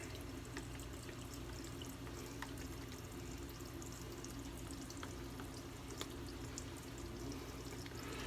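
A shaving brush worked briskly against soap in a lathering bowl, a dense continuous wet churning and squelching close up, steady in level throughout with no talk.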